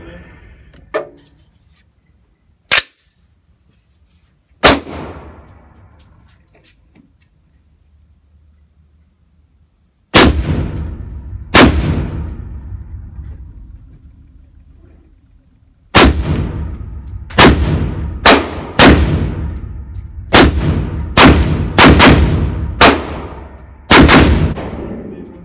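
Shots from a 7.5-inch AR rifle ring out outdoors: two isolated loud cracks early, then a quick pair, then a rapid string of about seven sharp reports with echoing tails.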